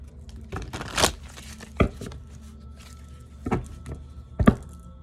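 Tarot cards being shuffled by hand produce a few separate papery riffles and soft slaps, close by, with quiet pauses between the bursts.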